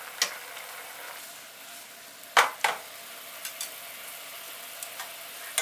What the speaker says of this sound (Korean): 이렇게 마지막에 센 불로 윤기나게 졸여주셔야지 훨씬 윤기가 잘 납니다.